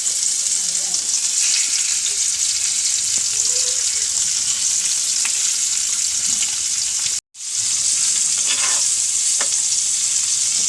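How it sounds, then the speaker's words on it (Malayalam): Four pieces of mackerel fried in oil in a home kitchen sizzle and crackle steadily, close and loud, with a brief cut of silence partway through. "4 കഷ്ണം മീൻ വറുക്കുന്നുണ്ട്"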